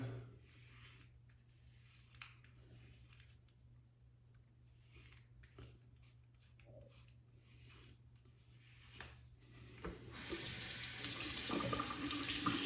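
Razor being rinsed under a running tap during a head shave, steady water flow at low level that swells louder near the end as the stream hits the sink, no talking.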